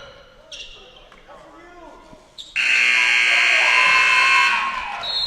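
The final horn at a summer high school basketball exhibition between Chattahoochee and East Coweta blares long and loud over the gym's crowd noise after a game-winning three at the buzzer, holding steady for nearly three seconds.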